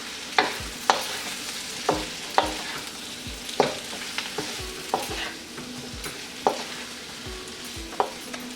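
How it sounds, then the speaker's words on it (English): A spoon scraping and stirring spices through frying vegetables in a pan for a vegetable jalfrezi, with regular knocks about once a second over a steady background sizzle, close and alone. "Give it a good stir."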